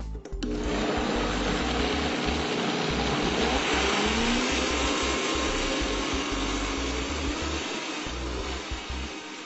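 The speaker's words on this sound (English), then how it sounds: "I added the pears, apples, and the sweet potato into my blender, and now I'm just going to blend it" A blender whirs loudly and continuously, its motor grinding steadily through thick pears, apples and sweet potato at close range with no talking.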